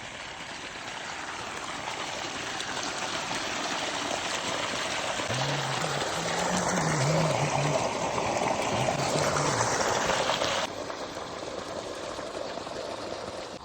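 Irrigation water runs steadily through a castor field in summer, a continuous broadband rush of flowing water with a faint low hum partway through, close and alone.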